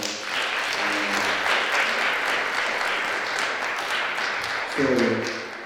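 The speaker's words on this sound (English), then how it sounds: "Give yourselves a round of applause." An audience at a community event applauds, a sustained wash of many hands clapping at steady loudness, with a brief voice audible beneath near the end.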